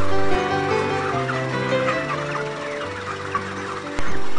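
Broiler chickens, roosters and hens raised for meat, cluck and call in a busy chorus that runs steadily throughout, with overlapping voices close by and no talk.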